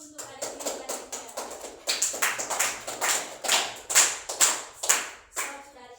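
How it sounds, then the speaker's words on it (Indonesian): Applause for the next student in a classroom: a short run of hand claps, brisk and fairly close, swelling into a few louder, more spaced claps before fading. "kita beri aplaus dulu untuk adik selanjutnya"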